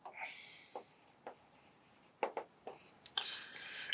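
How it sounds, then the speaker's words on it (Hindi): Pen or chalk strokes scratch nearby as a maths solution for definite integration is written out by hand, in short irregular bursts, with a teacher's voice faint underneath. "तो सॉल्यूशन लिखता हूं मैं"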